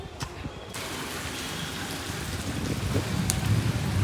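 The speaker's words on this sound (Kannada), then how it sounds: "ನಮ್ಮದು ಮಳೆ ಬರೋದು ಇವಾಗ" Steady rain falls close by, a dense, even hiss of drops on surfaces that builds slightly toward the end.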